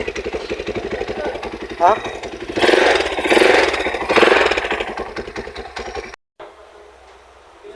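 A motorcycle engine idles through a stock exhaust fitted with a silencer, a fairly quiet steady putter under speech, with brief louder bursts, before cutting off near the end.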